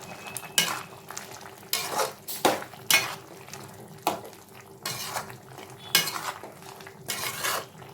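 Repeated scraping and clinking of a spoon stirring vada curry in a pot, in irregular bursts over a faint steady simmer, no voices.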